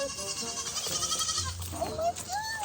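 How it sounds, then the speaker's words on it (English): Goats on rocky countryside terrain in Ninh Binh, Vietnam, bleat with short, wavering cries, several overlapping calls near the end, heard over a steady outdoor hiss and a person talking. "There's the goats."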